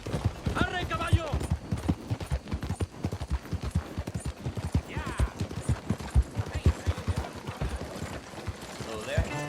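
Galloping horse hooves in the video game Red Dead Redemption 2, a fast, steady clip-clop running the whole way under a voice calling out and other speech.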